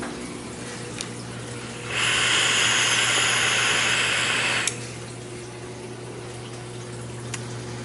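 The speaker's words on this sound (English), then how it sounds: "I want to wait for the water to fill up." Water pours into a reef aquarium tank as a steady rushing hiss that starts suddenly, runs for about three seconds and then cuts off, over a constant low pump hum.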